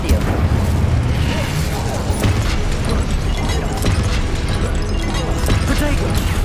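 Incendio fire spell being cast in Hogwarts Legacy, dense bursts of crackling, booming impacts layered with combat noise, loud throughout, with a voice calling out over it.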